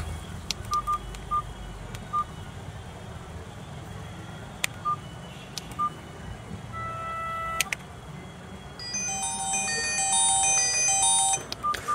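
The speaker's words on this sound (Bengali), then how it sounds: "ফোনটিতে কিন্তু 5টার মতো রিংটোন দেওয়া আছে, দেখতেই পাচ্ছেন।" A T-Source T205 feature phone plays its ringtones: a few short, spaced electronic beeps, then a brighter synthetic melody that swells for a few seconds before stopping.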